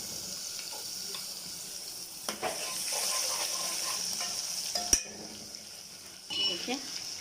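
Soft sizzling of ginger garlic paste browning in a pan with occasional stirring scrapes and clinks of a utensil, fairly quiet and steady.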